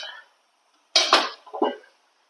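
A metal lid clatters onto a steamer pot, two quick close clanks of metal against metal after a brief pause.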